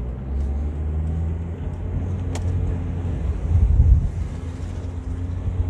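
A car pulls away during a driving lesson, its engine a steady low rumble inside the cabin that swells briefly as it accelerates, with a faint click and no talking.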